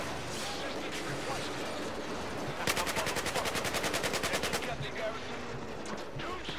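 A light machine gun fires in Battlefield 4 on the Suez mission: one rapid, evenly paced burst of about two seconds rises over steady background battle ambience and then cuts off.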